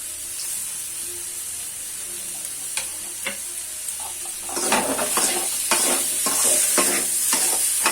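Potato chop filling for Odia alu chop being mixed with a utensil in a bowl, with spices, salt and chopped coriander leaves, giving scattered scraping and clacking strokes over a steady hiss that grow busier and louder in the second half.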